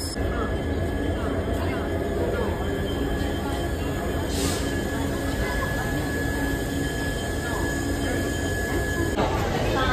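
Darjeeling Mail train arriving at New Jalpaiguri station, with a steady rumble of rolling rail cars and station noise filling the whole stretch, and faint voices mixed into the bustle.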